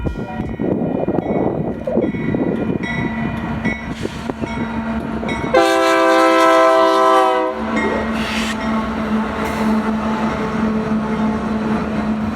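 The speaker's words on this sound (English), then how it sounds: "our final train of the day, which ended up being ZGTLT being led by a rebuild AC44 with a really nice K3 LA" A freight train led by a rebuilt AC44 locomotive sounds its K3LA horn in one long, loud chord blast outdoors in Utah, set against the steady rumble and rolling of the rail cars.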